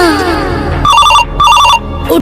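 A telephone rings in a Hindi action movie scene, two bursts of a bright electronic warble separated by a short gap, loud over a music bed.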